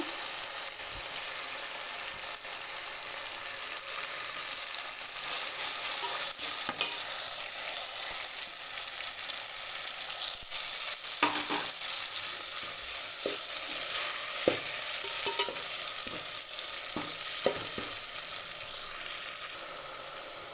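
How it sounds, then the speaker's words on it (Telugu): Three tomatoes frying in a pan, a dense continuous hiss with occasional scrapes and clicks of stirring, loud and close for the whole stretch. "టమాటాలు 3 టమాటాలు వేస్తున్నాను."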